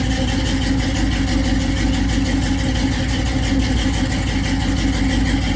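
Small block Chevy 350 V8 with a flat tappet cam idling in a 1983 Chevy C10 pickup, a close, steady, loud low rumble with an even lumpy pulse for several seconds, no talk.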